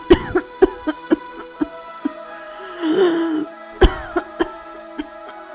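Woman coughing badly, a series of sharp, harsh coughs in uneven bursts with a strained throaty rasp in the middle, close and loud.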